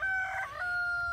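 A backyard rooster gives a single sustained crow, loud and close, its held tone lasting about a second with no other sounds.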